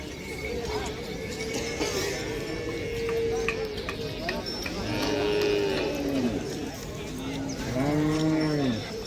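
Pair of large Khillar bulls at an outdoor bullock market in Lasur, mooing loudly several times amid a busy crowd murmur, with calls swelling toward the end.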